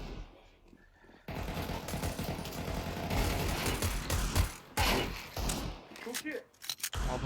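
Rapid automatic gunfire bursts from Counter-Strike on the Mirage map, a dense, loud, continuous volley that runs for several seconds with brief breaks, over game noise.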